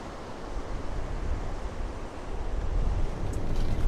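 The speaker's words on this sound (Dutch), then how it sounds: "Het is even gaan waaien op ons mooie plekje." Strong wind buffets a campsite in Greece, a rough continuous roar heavy in the low end that swells and gusts louder toward the end, close on the microphone with no talk.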